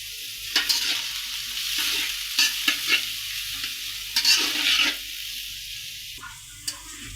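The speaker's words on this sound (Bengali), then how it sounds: "এই তো মরিচ পেঁয়াজগুলো ভাজা হয়ে গেছে।" Chopped onions and green chillies frying in hot oil, a soft continuous sizzle broken by several brief scrapes and clatters of a spatula stirring in the pan, close by.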